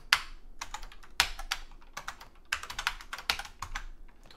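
Code being typed on a computer keyboard in quick bursts of crisp, close clicks and clacks, with short pauses between runs of keystrokes, no speech.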